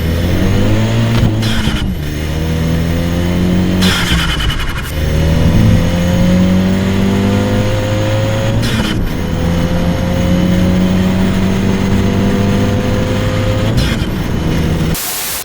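A turbo-swapped Renault Clio 197 with a forged blanking plate, running about 1.2 bar boost, revs loudly and repeatedly, each climb in engine pitch cut short by sharp bursts of turbo chatter.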